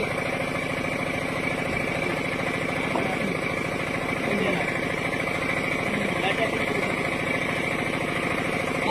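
A vehicle engine idles steadily at night on a roadside, a low, even, continuous rumble with faint background noise.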